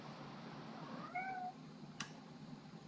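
A house cat gives a single clear meow with a rising-falling pitch, fairly close, followed by a brief sharp click in an otherwise quiet room.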